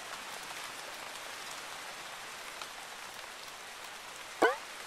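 Rain in the video game Backwoods Town: soft, steady patter hisses quietly throughout, with one sharp click near the end.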